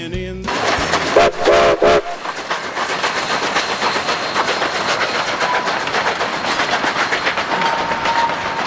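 A train whistle sounds in a few short, loud blasts, then the heavy rumble and rattle of a moving train carries on steadily.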